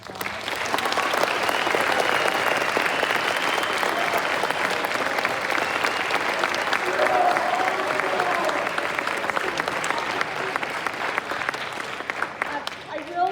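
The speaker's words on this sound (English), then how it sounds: "Let's give them one more big round of applause." A large audience gives sustained, dense applause at a junior high honor band concert, a loud continuous roar of clapping that holds steady throughout.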